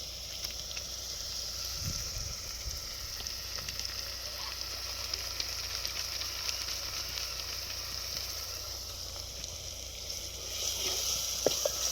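Garam masala hitting hot oil in a home-cooking pan for a festival-day meal, giving a steady, close sizzle with soft scraping from stirring throughout, brief rustles and a slight swell near the end.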